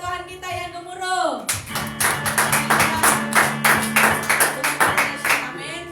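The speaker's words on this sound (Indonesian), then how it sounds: "Mari tepukan buat Tuhan kita yang gemuruh" A congregation at a Sunday church service claps in a fast, loosely rhythmic burst over music with sustained tones, close and moderately loud, after a voice slides down at the start.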